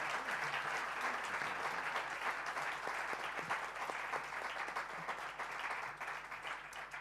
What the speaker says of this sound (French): Je voudrais qu'on applaudisse chaleureusement les intervenants de ce soir.